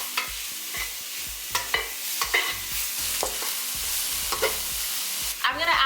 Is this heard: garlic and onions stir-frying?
yes